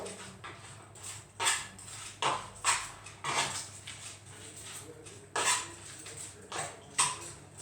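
Utensil clinking and scraping against a bowl as garlic-seasoned tapas ingredients are stirred together in a home kitchen, in irregular bursts of mixing with no speech.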